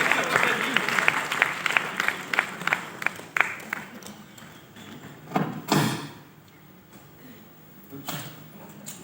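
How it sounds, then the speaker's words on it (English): Applause at a disability awards ceremony in Chennai, brisk clapping from the audience that fades after a few seconds, followed by a couple of dull thuds and quieter room noise. "Please put your hands together and a big, big, big round of applause for Jeshri."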